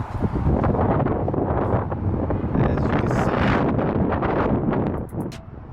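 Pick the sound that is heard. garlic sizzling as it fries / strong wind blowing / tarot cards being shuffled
strong wind blowing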